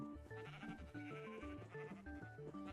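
Sheep bleat over and over in a Minecraft snake minigame. The steady chorus of overlapping bleats repeats over layered game music and sounds faint and even throughout.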